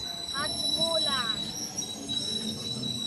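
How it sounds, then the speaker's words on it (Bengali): A train rolls past on the far track at a railway station, a steady rumble with high wheel squeals and brief metallic screeches. "এখন তো ওই সাইডে একটা ট্রেন যাচ্ছে"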